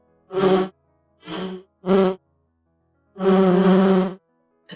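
Buzzing bee sound effect in four separate bursts, three short and one longer, each loud and close with a harsh, droning rasp, separated by silence and no talking.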